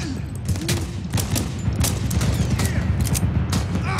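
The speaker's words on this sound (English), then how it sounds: "We got another bunker! There's an MG in there!" Sustained machine gun fire pours from a bunker in the Medal of Honor video game, dense rapid bursts layered with battle noise and scattered impacts throughout.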